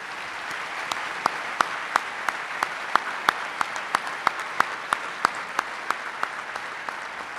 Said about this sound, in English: How about one last round of applause for our recipients?